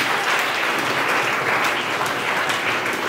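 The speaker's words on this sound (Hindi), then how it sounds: "जोर से ताली बजाओ इनके लिए।" Audience clapping loudly and steadily at a motivational talk on drug and gaming addiction, a dense, even applause with no talk over it.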